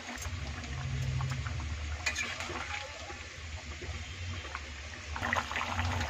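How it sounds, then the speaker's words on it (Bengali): Water boils in a pot for a cauliflower, potato and paneer curry, a soft continuous bubbling and trickling nearby at low volume, with no voices. "দেখুন এটা আমার ফুটে গেছে"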